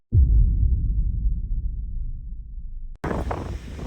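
Low, steady wind rumble buffets the microphone outdoors on a sunny day in Miami for a few seconds, then a brief cut to brighter, hissing outdoor noise.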